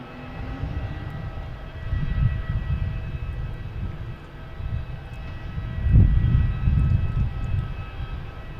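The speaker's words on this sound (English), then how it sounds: "here is Spirit Airlines, another one, coming in from Detroit" A Spirit Airlines plane arriving from Detroit at Boston Logan Airport, heard as a steady, distant low engine rumble that swells and fades over several seconds, with a brief louder surge near the end.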